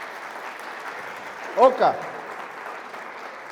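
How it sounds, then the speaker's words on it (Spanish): A church congregation applauds during a Spanish-language sermon: a steady wash of clapping runs throughout, and a short shouted voice rises briefly in the middle. "Un aplauso más fuerte a Jesús."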